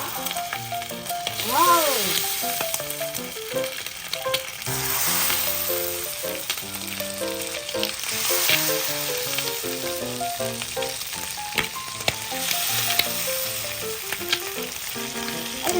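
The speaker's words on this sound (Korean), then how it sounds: "기름이 뜨거울 때 제가 넣겠습니다." Rice paper sweet and sour pork dropped into hot oil for deep frying, a bubbling sizzle beneath loud background music, with a brief exclamation from a voice.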